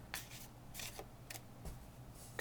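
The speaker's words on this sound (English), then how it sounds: "And this is our second shuffle." A deck of playing cards gets an overhand shuffle, giving quiet, soft riffling bursts that repeat in a loose rhythm, heard close up with no talking.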